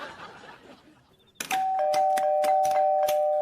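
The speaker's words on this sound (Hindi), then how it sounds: "अबे कौन है जो इतनी रात को शरीफ आदमी के घर की घंटी बजा रहा है?" A doorbell rings at a home late at night: a muffled rustle first, then a sudden bright chime that sustains with repeated ding tones, loud and close.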